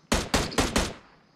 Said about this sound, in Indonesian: sekarang saya akan coba nembak gedung yang ada di tengah itu guys